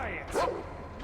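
Dogs in the Metro video game let out a single short, yelping bark up close. The bark sits over a steady low background hum.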